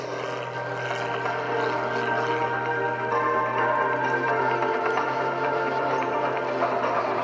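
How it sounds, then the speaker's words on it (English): An aerobatic propeller airplane flown by Sean Tucker at an Air National Guard airshow drones steadily overhead, a continuous engine hum holding a fairly even level throughout with no voices. "And now as Sean turns inbound, this is called the Harrier Pass"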